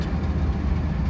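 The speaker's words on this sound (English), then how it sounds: "You can hear that motor." A switching locomotive's motor rumbles in a rail yard, a deep continuous low drone heard nearby for about a second with no voices.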